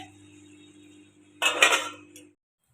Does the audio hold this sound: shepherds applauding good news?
no